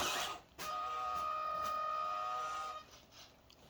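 An EazyRC 1:18 Glacier RC car creeping slowly, its small electric motor giving a steady tonal whine for about two seconds that starts and stops abruptly, faint and close, heard alone.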